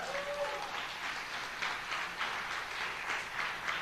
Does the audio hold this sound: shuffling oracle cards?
no